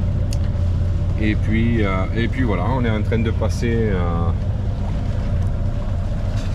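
The sailboat Liberty motors under engine power into a harbor roadstead, giving a steady low drone with wind buffeting the microphone, while someone talks close over it.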